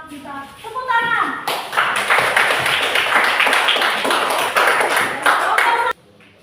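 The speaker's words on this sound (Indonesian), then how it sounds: "Semua kita tepuk tangan." A fourth-grade class claps hands together in a classroom, a loud burst of many overlapping claps that starts after a brief spoken voice and cuts off abruptly near the end.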